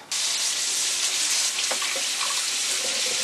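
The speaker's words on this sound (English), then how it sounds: "I go ahead and rinse them in cold water, and that does cut out some of the smell." Cold tap water runs steadily over freshly cut onions in a kitchen sink, a continuous close hiss and splash with small shifts as the onions are rinsed.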